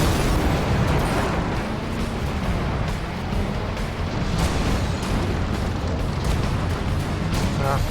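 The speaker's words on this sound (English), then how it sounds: "Rocket launcher." Rocket launcher explosions in Gas Guzzlers Extreme, a steady dense roar of blasts and booming impacts mixed with car engine noise, loud and continuous throughout.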